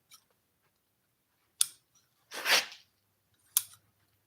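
Scissors cutting through armrest upholstery material, a few separate sharp snips spaced apart, close and fairly loud against near silence.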